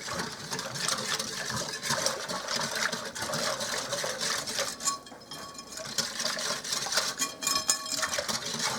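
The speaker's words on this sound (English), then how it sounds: "I'm going to give this a little whisk and get it all mixed together" A whisk beaten through a milk and honey mixture in a bowl for white bread dough: a continuous fast rattling, scraping clatter, fairly loud and close, steady for several seconds with a brief dip midway.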